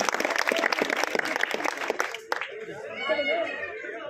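Applause with crowd chatter greets a deputy mayor arriving at an outdoor Jan Suraaj political rally in Sherpur Madhopur, dense clapping for a couple of seconds before fading into murmuring voices.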